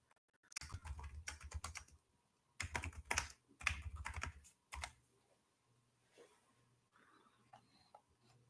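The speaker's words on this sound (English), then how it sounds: "Yeah, what's going on with my typing?" Quick bursts of keystrokes on a computer keyboard come in several clustered runs separated by pauses, with soft scattered clicks toward the end; close and clear, with no talking.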